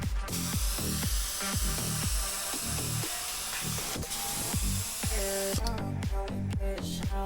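An improvised compressor made from a wheel sprays paint, with a rhythmic chugging pulse repeating steadily under a constant hissing spray, close and moderately loud.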